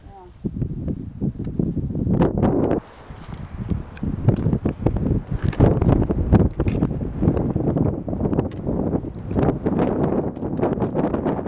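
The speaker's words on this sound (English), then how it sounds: "Comes the wind again." Wind gusts buffet the microphone at a mountain lake along a trail, loud rumbling bursts that come and go with rustling and footsteps, while people talk over it.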